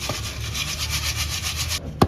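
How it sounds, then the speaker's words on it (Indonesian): Dried soil shaken through a number 20 sieve in a soil mechanics lab, a steady rhythmic rubbing and scraping, close, ending with a sharp knock. "Ayak dengan saringan nomor 20."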